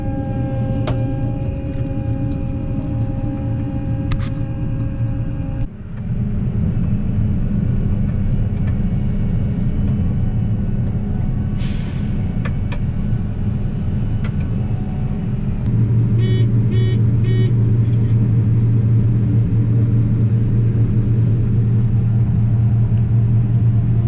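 Loaded corn grain trailer hauled by a truck at harvest, a loud, constant low engine rumble that persists throughout with a slight shift midway, with no voices.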